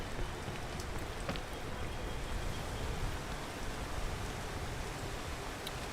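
Steady rain in the Silksong video game, a constant soft hiss of falling drops with occasional faint pattering ticks, even and unbroken throughout with no talk.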